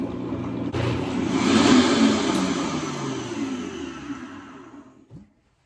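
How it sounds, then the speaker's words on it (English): A kitchen blender whirs loudly as it chops paper, a strong motor drone that starts abruptly, builds and holds, then winds down and stops near the end, with no voices. "So I'm gonna pop it in the blender."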